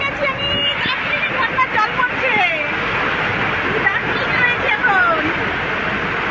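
Rainwater pours down like a waterfall during a thunderstorm, a steady rushing wash of water with voices speaking and calling over it and a few higher whistling tones.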